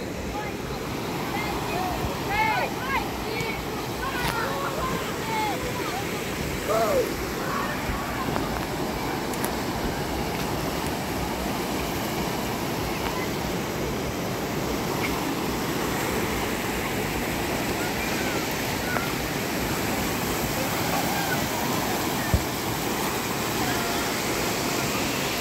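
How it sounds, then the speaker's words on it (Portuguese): Continuous rushing water roars steadily throughout, broad and noisy, with faint voices and bird calls drifting over it. "Filmar aqui um pedacinho dessa cachoeira aqui pra vocês"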